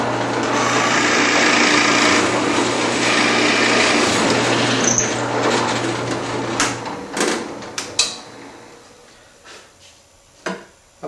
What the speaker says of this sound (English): The next step is to drill the pilot holes for the dowel that will make the rivets.